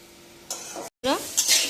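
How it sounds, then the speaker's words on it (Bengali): Frying leafy greens in a pan with hissing sizzle and stirring, interrupted by a brief silence, then louder sizzling bursts. "এবার আমি শাক ভাজছি"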